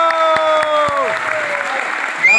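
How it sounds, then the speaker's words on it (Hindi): Applause from an audience at a diamond celebration speech event, a broad burst of clapping that starts partway through after a trailing tonal sound, moderately loud. "जोरदार ताली हो जाए।"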